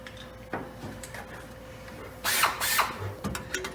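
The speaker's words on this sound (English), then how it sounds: "So you got to run the drill through the hole real quick" A drill briefly chases rivet holes in P-40 aircraft skin, with a short burst of bright, whining bursts near the middle over a quiet workshop background and a softer touch later.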